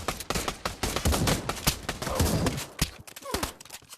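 Shotgun fire in the VR game Pavlov, with rapid sharp blasts and clatter in quick succession amid a busy, chaotic mix, with some voices mixed in.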